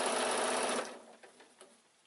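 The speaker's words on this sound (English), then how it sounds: "So now I'm sewing to where that line of stitching is, what I've sewed previously." A sewing machine stitches a quilted evening bag along an earlier line of stitching. It whirs loudly and steadily for under a second, then slows and fades into a few faint mechanical clicks.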